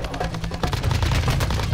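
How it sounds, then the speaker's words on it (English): Rapid gunfire in a video game rattles in dense, loud bursts, sporadic at first and then a sustained volley of rapid shots from about two-thirds of a second onward. "Who the fuck is shooting me?"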